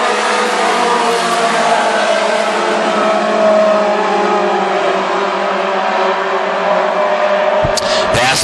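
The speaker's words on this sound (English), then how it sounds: "it is all Chad Funt in the 21 car, your leader from the get-go in our first out of 2 tonight in the Mod 4s." WISSOTA Modified Four race cars roar around the Ogilvie Raceway dirt track in a loud, sustained engine drone with revving, and an announcer's voice runs over the noise.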